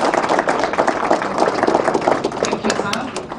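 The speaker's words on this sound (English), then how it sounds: "Can we give a round of applause?" Audience applause at a results release ceremony for Kenya's KCSE 2021–2022 examinations: a sustained, dense round of clapping from a crowd, steady and moderately loud throughout.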